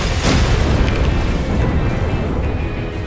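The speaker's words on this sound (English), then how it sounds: "This is 8 tank cannons." Eight tank cannons fire in a video game, producing a loud, dense, continuous roar of booming blasts that fills about three seconds with heavy low rumble.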